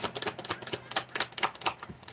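Tarot cards being shuffled during a live reading, a rapid run of crisp, close flicks and riffles with no talking.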